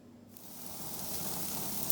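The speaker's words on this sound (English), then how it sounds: "Well, we got it on the barbecue now." Stuffed calamari brushed with olive oil and seasoned with salt and pepper sizzles on a barbecue grill, a steady close hiss that starts after a brief quiet moment and slowly grows louder, with no talking.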